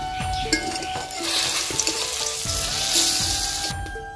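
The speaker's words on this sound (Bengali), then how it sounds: "সম্পূর্ণ পাপড়ের রোল ভাজা হয়ে গেছে।" Papad rolls frying in oil, a steady sizzling crackle with soft stirring clinks and scrapes from the pan, close and moderately loud throughout.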